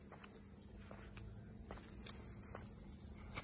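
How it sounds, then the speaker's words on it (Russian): Insects outdoors near Livingstone and Victoria Falls produce a constant, shrill, high-pitched chirring drone that runs unbroken throughout, with faint soft footsteps or taps scattered underneath. "здесь слышно, как стрекочет все стрекозы"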